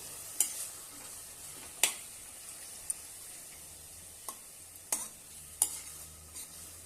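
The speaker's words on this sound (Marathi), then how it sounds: "छानपैकी परतून घेऊया" Onion greens being stir-fried for a spicy chutney, with a soft steady sizzle under scattered sharp scrapes and taps of a spatula against the pan, spaced irregularly and heard close without talk.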